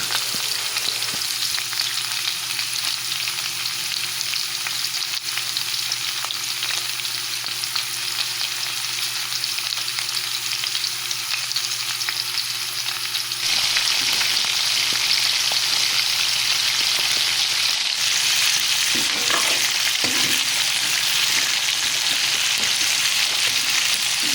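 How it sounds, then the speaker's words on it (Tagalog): Squash dropped into a pan with onion and garlic for ginataang kalabasa, a loud steady sizzle that surges louder and denser midway as the pieces hit the hot oil. "Atin na din pong ilalok yung ating kalabasa."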